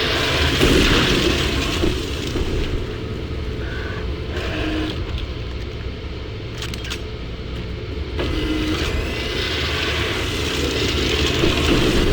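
Loud grenade blasts and rumbling bursts in Doom 3, set against dense, continuous game noise with no talking.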